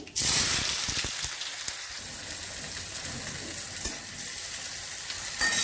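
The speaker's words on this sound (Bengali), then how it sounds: "কালো জিরে ফোড়ন করছি, পেঁয়াজ কুচি দিচ্ছি" Chopped onion hits hot oil tempered with nigella seeds, bursting into a loud sizzle that settles into steady crackling frying with spatula stirs throughout, no one speaking.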